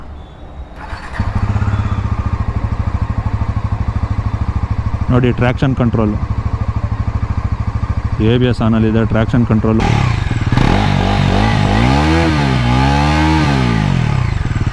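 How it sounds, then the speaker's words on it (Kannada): A Bajaj Pulsar NS400Z motorcycle engine starts with a short crank and settles into a loud, steady idle close by, with someone talking over it throughout. "ಈಗ ಇಂಜಿನ್ ಆನ್ ಮಾಡೋಣ"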